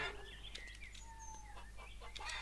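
Chickens in the video game Lumberjack's Dynasty cluck and chirp in short, overlapping calls at low volume, heard alone over a steady low hum of background ambience.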